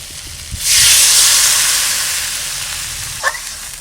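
Water poured into a hot pan of cooking greens and potato bursts into a loud, close hiss of steam that slowly fades over a few seconds, followed by a brief clink.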